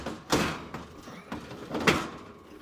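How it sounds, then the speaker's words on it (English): Oven door of a KitchenAid gas range being angled and pushed back onto its hinges, a few close scraping and clunking metal knocks spaced across a couple of seconds in a quiet kitchen. "the oven door goes in just like opposite of how we took it out, just at an angle a little bit."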